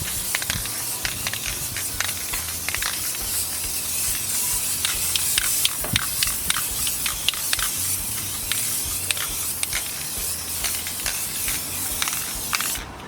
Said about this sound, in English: Now remember to spray evenly, up and down, in one direction.